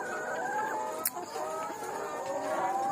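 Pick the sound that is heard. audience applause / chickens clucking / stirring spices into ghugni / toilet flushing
chickens clucking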